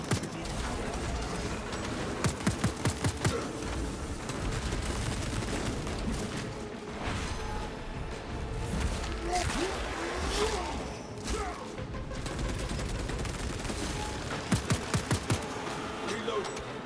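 Heavy bolter fire in a Warhammer video game comes in rapid bursts of sharp repeated shots over a dense, busy soundscape of mechanical clanks, whooshes and crashes, with game voices and a player talking intermittently.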